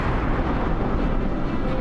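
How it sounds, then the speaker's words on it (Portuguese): A supernova explosion sound effect: a dense, loud, continuous roaring rumble that fills the short clip without any distinct beginning or end. "Uma supernova é uma estrela que termina sua vida em uma explosão maciça."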